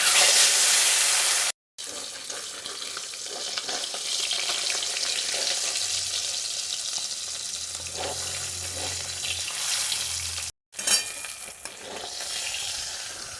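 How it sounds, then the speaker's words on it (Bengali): Foli fish laid into a salted wok, a loud continuous frying sizzle running throughout, broken by two brief silent cuts, with faint utensil clinks and no talk. "এরপরে ফলি মাছগুলো দিয়ে দেবো"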